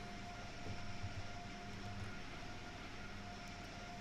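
Motor blowers on an Acela Express run at full power while the train moves in the Train Sim World 3 simulator, giving a quiet, steady, unbroken whirring drone with no talk.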